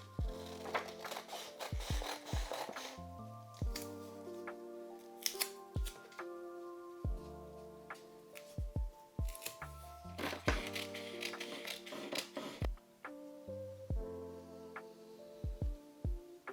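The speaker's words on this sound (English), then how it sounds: "cut away the excess where the scissors are marked" Sharp scissor snips and crisp paper rustles repeat close up, in bursts with pauses, over quiet background music.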